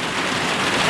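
Steady rain pours down, a dense hiss of drops close by with no pauses.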